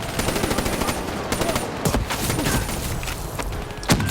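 Machine gun fire in Call of Duty: Black Ops III gameplay, loud dense bursts of rapid shots with booming impacts layered over a continuous battle din, close and relentless.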